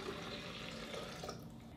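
Water pours from a container into a Vitamix 5200 blender jar, a faint, steady splashing trickle lasting under two seconds.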